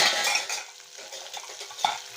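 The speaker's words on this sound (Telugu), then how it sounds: "కొద్దిగా కలుపుతాం." A spoon stirs capsicum curry with turmeric in a pan, producing soft scraping and clinking against the metal with a faint sizzle, close and steady with no talk.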